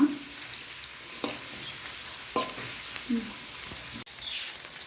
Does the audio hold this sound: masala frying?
yes